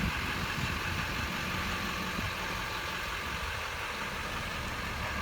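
A 2005 Chevrolet Silverado 3500 pickup truck idles in a dense, steady low rumble that holds constant throughout, close by and alone, with no voices.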